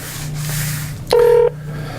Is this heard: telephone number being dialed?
yes